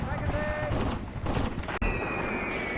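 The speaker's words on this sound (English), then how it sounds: "Some very heavy machine guns." Heavy machine gun fire rattles in the Tank Warfare Tunisia 1943 video game, a dense, continuous battlefield din with someone talking over it throughout.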